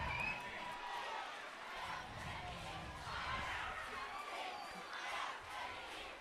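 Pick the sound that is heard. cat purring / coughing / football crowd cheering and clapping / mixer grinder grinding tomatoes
football crowd cheering and clapping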